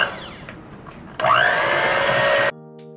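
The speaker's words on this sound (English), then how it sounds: "This is a dough hook. I'm using my mixer today." An electric stand mixer with a dough hook kneading pizza dough starts up abruptly, a loud whining motor hum that rises in pitch and runs steadily for over a second, then cuts off sharply into quiet.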